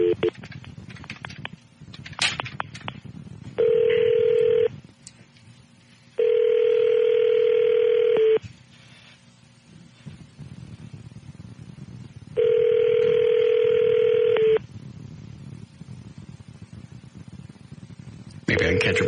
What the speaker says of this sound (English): You try Laura Miller's phone.